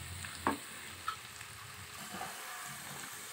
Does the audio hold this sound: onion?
yes